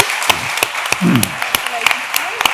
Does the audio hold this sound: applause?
yes